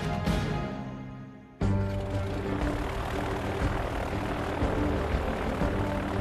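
Propeller aircraft engines drone loud and steady as planes carry Indian troops from Delhi airports to Srinagar, with an abrupt jump in level partway through and no talk.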